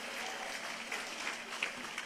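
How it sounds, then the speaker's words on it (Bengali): An audience at a university convocation ceremony in 2023 applauds the graduates' parents with a steady, moderate wash of clapping that continues throughout, fairly distant and soft, with a few sharper claps standing out. "আপনাদের জন্য একটি জোরে করতালি প্লিজ"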